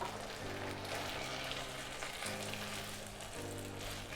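Peas and ham sizzling steadily in a risotto pan, a close, continuous frying hiss with a low repeating hum underneath, no voices.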